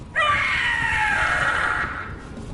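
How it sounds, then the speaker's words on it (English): The Gloomhowler, a monster in the video game Dragon Age: The Veilguard, lets out a single loud, sustained shrieking scream that holds for about two seconds before it tapers off. "Scream all you want!"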